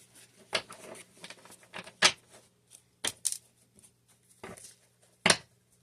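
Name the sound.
shuffling tarot cards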